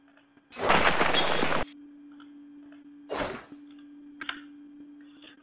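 Particle explosion effect at size 4: a loud broadband blast lasting about a second, followed by two shorter, fainter bursts, all over a steady low hum.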